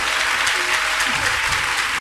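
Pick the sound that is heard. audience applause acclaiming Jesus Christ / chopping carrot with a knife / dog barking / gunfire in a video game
audience applause acclaiming Jesus Christ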